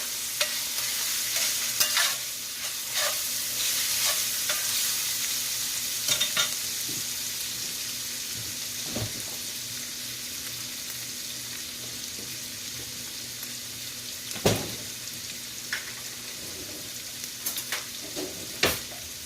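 Keto chili stirred in a frying pan, a steady sizzle running throughout with scraping stir strokes at intervals and a few sharper clanks near the end, close and alone.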